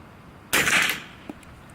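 A single suppressed .45 ACP pistol shot goes off as one short, muffled crack with a brief tail, then a faint click follows in otherwise quiet surroundings.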